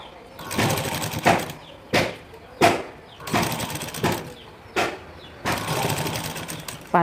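A sewing machine stitches a plain blouse in repeated runs of fast, even whirring, each lasting about a second. Sharp pauses and clicks fall between the runs, and nobody speaks.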